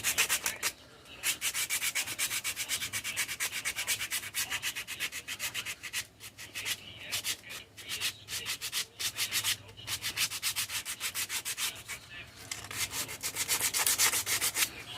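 Steady, raspy back-and-forth scraping of sandpaper against a small handmade wooden glide bait, a continuous near rub with brief pauses between strokes, no voices.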